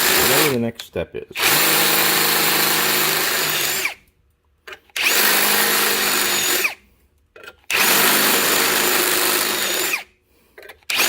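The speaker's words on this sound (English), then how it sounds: "I'm going to drill it out whatever the next step is" A power drill bores a hole during an exhaust reroute on a 2022 Tiffin Allegro motorhome with an Onan generator, running in three sustained loud bursts separated by pauses, with a brief spoken word just before the first burst.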